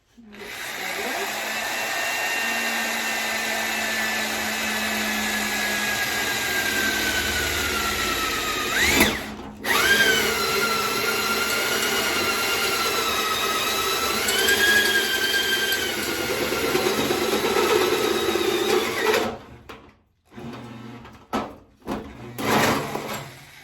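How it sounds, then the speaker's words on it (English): A power drill whines loudly and steadily for a long stretch, its pitch dipping and rising as it bores into a wooden IKEA cabinet, then cuts off, followed by a few clattering knocks. "We're gonna put the drill where we want it."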